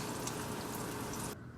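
Milk is poured into a pan for a roux, a brief, dense, continuous splashing stream that cuts off abruptly.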